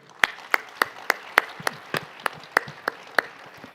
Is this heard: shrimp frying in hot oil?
no